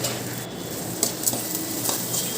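Tomato, turmeric and salt frying for siru keerai poriyal, stirred in a pan with soft scraping and a few light metallic taps over a continuous hiss of sizzling.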